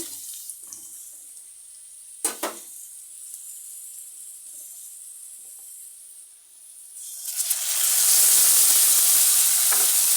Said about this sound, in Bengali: আলুগুলি একটু লালচি লাচি হয়েছে এসেছে এখন একটু নাড়াচাড়া দিয়ে মশলাগুলি ছেড়ে দেব